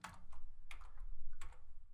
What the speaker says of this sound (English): we can press the Alt key, the R key, and then the E key